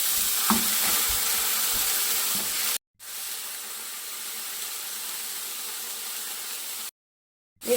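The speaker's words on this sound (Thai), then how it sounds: "ผัดให้แห้ง ๆ สักหน่อย แบบนี้ก็โอเคค่ะ" Foraged wild vegetables stir-fried in a pan with sugar, soy sauce and seasoning powder make a steady close sizzle and hiss, with a few utensil scrapes early on and two brief dropouts.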